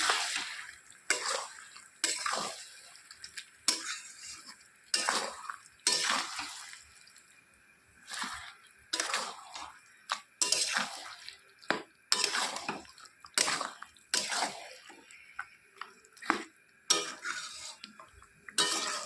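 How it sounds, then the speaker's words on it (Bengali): Mutton being stirred with salt in a pot during pressure-cooker mutton kasha preparation: repeated scraping and clinking of a spoon against the metal pot in an irregular rhythm, close and fairly loud, with no talking. "স্বাদ মতো নুন ভালো করে মিশিয়ে নেব নেড়ে চেড়ে"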